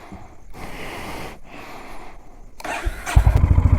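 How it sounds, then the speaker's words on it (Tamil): A motorcycle is started at home before dawn, ahead of a long ride. Rustling and breathing-like noises come first, then the engine catches and settles into a loud, close, chugging idle. "வண்டியை ஸ்டார்ட் பண்ணியாச்சு ஃப்ரெண்ட்ஸ்"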